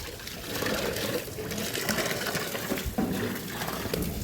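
Water is poured out for pigs to drink during hot weather, a steady splashing, trickling stream running close by for several seconds without pause.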